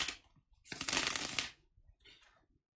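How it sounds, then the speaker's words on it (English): Tarot cards shuffled by hand, a short soft riffle at first and then a longer dense burst of shuffling, followed by a quieter third pass, all close and alone. "just give me a moment to shuffle the cards."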